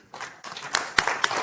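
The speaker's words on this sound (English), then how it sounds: "Yes, go ahead and clap." An audience at a Ghana-UK investment summit in London claps briefly, with a few distinct sharp claps rising out of a short, close burst of applause.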